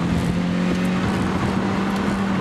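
A 2006 Lotus Elise on race slicks, with no power mods, drives at Brainerd race track, giving a steady engine drone with a constant low tone plus wind and road noise, close and loud throughout.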